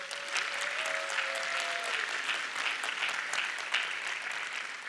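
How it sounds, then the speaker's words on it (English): Sustained applause from the audience at a charter high school graduation ceremony, a dense, even wash of many hands clapping continuously throughout at a steady, fairly loud level. "So please give yourself a round of applause."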